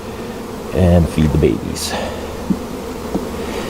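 Honey bees buzz around an opened hive during a June hive check. The steady drone runs under a person talking nearby, with a few louder buzzing passes close by.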